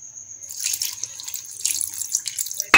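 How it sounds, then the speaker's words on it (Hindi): Half a cup of water streams into a spicy popcorn chicken marinade seasoned with garlic powder and salt, a close, hissing, splashy pour lasting a few seconds. "तो इसमें 1/2 कप पानी डालेंगे।"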